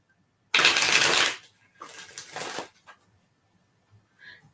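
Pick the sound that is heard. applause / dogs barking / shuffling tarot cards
shuffling tarot cards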